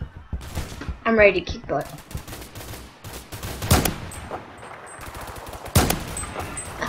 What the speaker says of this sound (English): See, now I got my submachine gun.